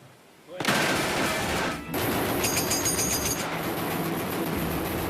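A war film battle scene erupts in gunfire. After a quiet start, a loud, sustained fusillade of rifle and machine-gun shots plays with dense crackling bursts and metallic pings.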